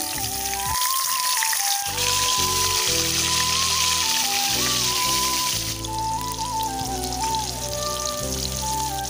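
Slices of pointed gourd (potol) fry in oil with turmeric and salt, giving a steady, crackling sizzle like rain that runs the whole time, with a faint tonal hum over it.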